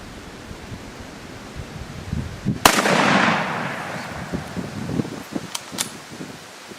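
A single loud gunshot from a 1903-A3 rifle fired at an outdoor range in the rain, a sharp crack followed by a long decaying echo over steady rain-like noise.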